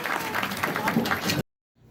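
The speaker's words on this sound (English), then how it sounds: "the real round of applause goes to our helpful volunteers today" A crowd at an elephant and bird show at African Lion Safari in Canada applauds the volunteers, a steady wash of clapping that cuts off abruptly into silence before faint sound returns.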